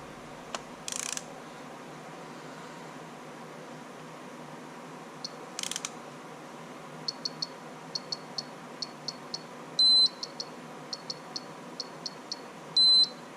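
Digital torque wrench on a 2013 Suzuki RMZ motorbike during an oil change, rapid ratchet clicks in short bursts broken by two long steady beeps as the set torque is reached, close and clear without talk.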